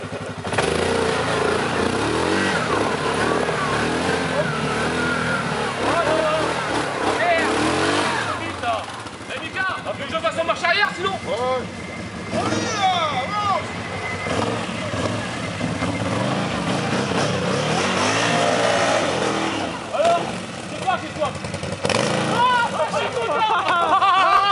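A Can-Am quad engine revs loudly and passes close during an October trail ride, with the roar rising and falling over other engines and the chatter of a crowd of people talking.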